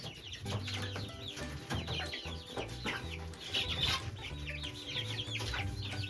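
Several chickens outside their coop in the evening cluck and chatter continuously nearby, overlapping calls in an uneven rhythm with no talking.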